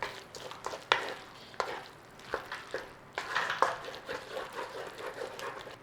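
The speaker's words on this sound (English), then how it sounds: "In there, frozen peas, stir it all in." Chicken curry with frozen peas stirred in a hot pan, soft steady sizzling broken by repeated scraping strokes and light clinks of the utensil, close and alone with no voices.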